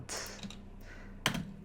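Quick keystrokes on a computer keyboard during procedural wood-floor modeling work in Houdini, a brief flurry of clicks at the start and a sharper tap burst near the end, close and fairly quiet.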